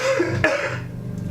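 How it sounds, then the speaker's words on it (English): A single short cough from an adult man, close and clear, followed by a brief throat-clearing rasp and quiet room tone. "I have to cough."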